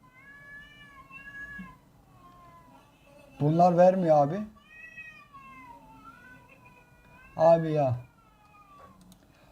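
Two loud, drawn-out cat meows, a few seconds apart, cutting through ongoing conversation between people nearby.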